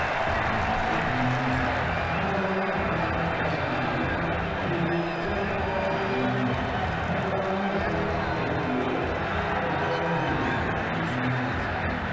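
A stadium crowd at a Sri Lanka versus Bangladesh T20 cricket international roars steadily in applause and cheering after a big shot, a broad continuous wash of noise beneath commentary.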